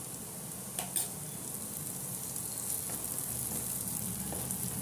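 Lightly browned onions and green chilies fry on medium flame in a pan for masala Maggi, giving a steady close hiss and sizzle with a few soft stirring clinks and no voices.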